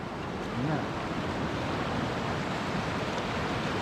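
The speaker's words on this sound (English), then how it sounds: "look at the river. It looks crazy the way it's flowing up there over the rocks" A steady, dense rush of a high, fast-flowing river over rocks near a bridge in Scotland, continuous and fairly loud, with a faint voice briefly underneath.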